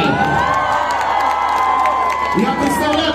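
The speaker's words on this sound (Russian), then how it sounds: "Этим типам громкие респекты, аплодисменты." A rock concert crowd in Moscow cheers, whoops and applauds loudly and continuously, a dense roar of voices and clapping right up close.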